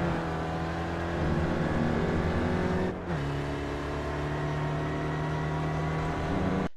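An SRF race car engine at Brands Hatch GP in iRacing drones loud and steady at full power. It drops briefly at a gear change, then settles back into a sustained, buzzing pull.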